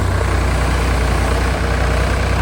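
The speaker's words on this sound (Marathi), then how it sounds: "तर तिथे ट्रॅक्टरची वाही करायला घेतली" A tractor works a paddy field, churning it into mud before rice planting in the monsoon. Its engine gives a continuous loud, low drone close by, with no break.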